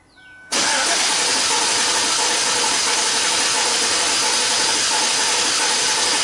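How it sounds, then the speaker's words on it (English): A Chevy Silverado engine with a low-compression cylinder cranks and catches after a brief starter whir, then runs in a loud, steady roar close up. "I can actually feel inconsistent cranking. There's a low compression on one cylinder"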